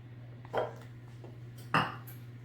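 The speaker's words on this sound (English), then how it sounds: "I'll scrape it out with my spatula here." Melted butter being scraped from a pan into a bowl with a spatula, heard as two short clinking scrapes over a steady low hum.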